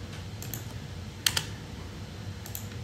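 A few sharp keystrokes on a computer keyboard entering a short command in AutoCAD drafting software, quiet and close, with two clustered taps midway and a faint one near the end over a low steady hum.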